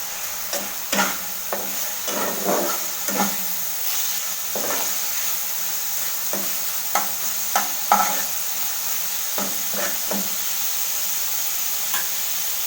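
Turmeric powder and chopped tomato frying in a pan for an egg curry with papaya, a steady close sizzle broken by repeated stirring scrapes and clinks, no voices.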